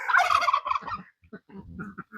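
Farm chickens clucking and calling near a lawn, a loud burst of squawking followed by softer, broken clucks, close and with no talking.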